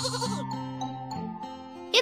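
A couple of drawn-out sheep bleats from a video game, with a synthetic, game-like tone over soft musical notes, ending in a short bright chime.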